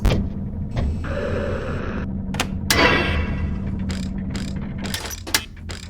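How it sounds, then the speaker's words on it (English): A hand crank turns in a horror video game set in a restaurant, giving a mechanical ratcheting, gear-like clanking. Metallic clicks and clangs come in uneven bursts over a low hum, with a brief ding-like tone. "Hand crank."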